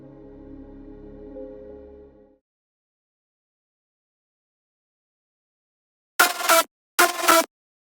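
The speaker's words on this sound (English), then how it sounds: "In this automation I also created a stutter effect," A synth lead in a future bounce production in FL Studio stutters under reverb automation: a soft sustained tone fades out, silence follows, then two sharp, bright, noisy bursts cut in abruptly.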